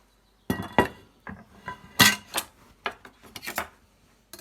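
Lardons dropped into a saucepan of cold water, a series of irregular sharp clinks and clatters of metal and glass, spaced apart with quiet gaps, close and moderately loud.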